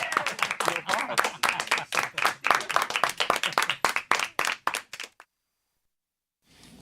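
A small audience applauds a card trick with brisk, close hand claps that last about five seconds before stopping abruptly, followed by silence and then faint room noise.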